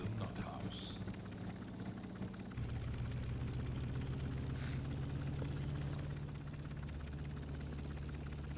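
A vehicle engine in the Stormworks building and rescue game drones steadily at close range, a low continuous hum that shifts pitch slightly partway through and carries on evenly to the end.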